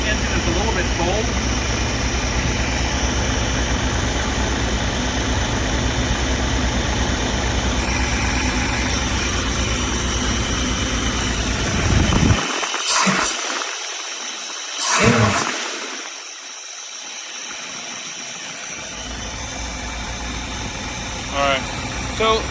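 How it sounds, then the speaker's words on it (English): A cold engine idles steadily in a 1968 Van Winkle while a thermostatic clutch fan roars, with a constant loud drone and wind noise; a voice talks over it and the sound briefly drops out midway. "even though this engine is dead cold, that clutch fan is engaging. There's a lot of wind coming off that."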